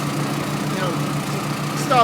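Tracked Orec flail mower with a Honda 270 engine running steadily while cutting thick blackberry brush, a continuous mid-low engine drone throughout, with a brief louder burst at the end.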